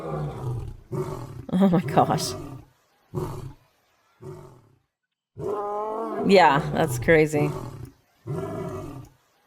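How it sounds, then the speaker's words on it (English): A lion roars in the Planet Zoo 2 video game, several deep rumbling bursts with pauses between them, close and loud, while a person talks and reacts over the calls. "Here, I think, is the sound of the lion's roar."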